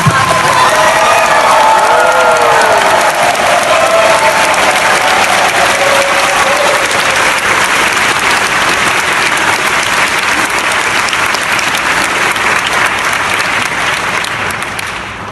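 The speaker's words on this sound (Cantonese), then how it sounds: "我哋俾啲掌聲，我哋嘅前港督" Loud, sustained clapping and some cheering from an audience honouring former Hong Kong governor Chris Patten at his book launch in London. The full hall claps steadily for about fifteen seconds, and some scattered voices are heard before it slowly tapers off.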